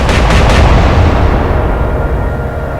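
Naval gunfire in the Atlantic Fleet video game, a Royal Navy versus Kriegsmarine battle, hits as a loud opening salvo of rapid blasts that rolls into a long, heavy rumbling decay, with no talk over it.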